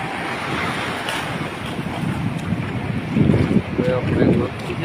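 Big ocean waves surge and roar at Kuakata beach with heavy wind buffeting the microphone, the rush swelling louder toward the end.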